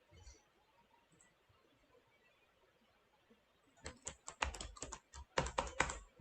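Quick bursts of keystrokes on a computer keyboard as an email address is typed, starting after a quiet stretch and coming in clustered clicks that grow louder toward the end, with no talking.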